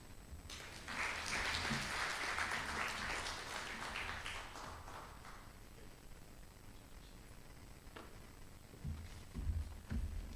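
Audience applause at the 2023 IRSK inaugural conference for Ambassador Okara: a faint, distant wash of clapping that swells quickly, holds for several seconds, then thins out to scattered low thumps.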